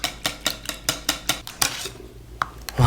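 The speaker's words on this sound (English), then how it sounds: "Give it a whisk" Whisk clacking rhythmically against a bowl while beating an egg mixture for Lao seasoned baked eggs, about ten quick metallic taps at a steady pace, then a few scattered clinks and scrapes, close and moderately loud.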